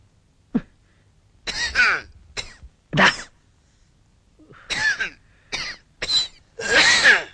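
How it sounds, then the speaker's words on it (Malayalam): Harsh, nearby coughing comes in repeated bursts, some single and some in quick clusters, ending in a longer rasping fit with a throaty, hoarse quality. "നിന്റെ ചുമയൊന്ന് നിർത്ത്"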